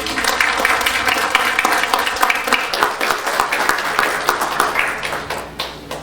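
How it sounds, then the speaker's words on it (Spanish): A congress audience gives a speaker loud, steady applause that fills the hall, then slowly thins into looser, scattered claps toward the end. "Demos un aplauso a nuestro ponente"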